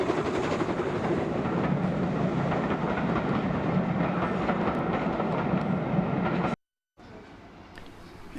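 A train approaching Rothley Station on the Great Central Railway heritage line makes a broad, continuous rumble and rattle of rolling wheels and coaches, loud and steady for several seconds before a brief cut.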